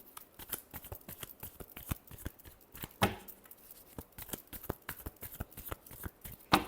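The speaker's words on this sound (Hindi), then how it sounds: "Last shuffle." Tarot cards being shuffled by hand: a steady run of crisp, close flicks and riffles with a brief louder burst partway through, with no talk over it.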